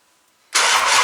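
After a brief quiet moment, a car engine suddenly catches with a loud, close, broadband burst that holds steady through the remainder, firing on a start attempt despite a suspected lack of fuel pressure.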